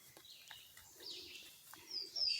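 Birds chirp faintly in a freshly cut field, scattered high tweets and a couple of thin whistled notes at a distance over quiet outdoor background.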